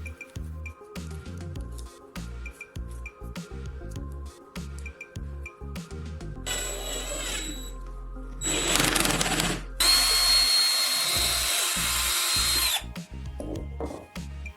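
A handheld power drill with a wire-wrapped bit chucked in it whirs in repeated short bursts, then runs in longer, louder continuous stretches with a high, grinding whine; no one speaks.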